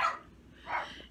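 A dog barks twice from some distance indoors, two short muffled barks about half a second apart, with quiet room tone in between.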